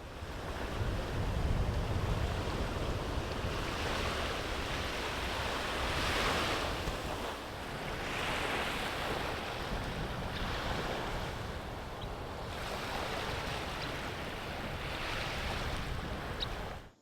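Ocean waves breaking on a beach at Plum Island, rolling in as a steady roar with repeated surges every couple of seconds, loud and close, with wind buffeting the microphone and no voices.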